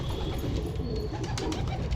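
Pigeons perched outdoors cooing softly in a steady low murmur, close by, with no talking.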